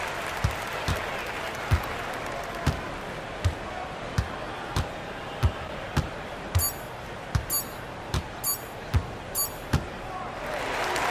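Arena crowd noise rumbles steadily in an NBA 2K26 Jazz vs. Warriors game, with regular basketball bounces thumping through it and a brighter burst of cheering and squeaks late on.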